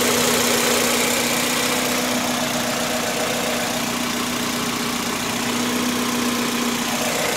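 A 2005 Toyota Corolla LE's 1.8-liter VVT-i 16-valve four-cylinder idles steadily up close, a constant hum with a faint whine, with no talk.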